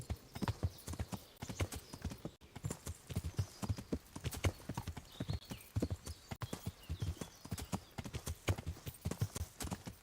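Horse hooves clip-clop in a rapid, even rhythm as a rider travels in Kingdom Come: Deliverance, close and steady throughout without speech.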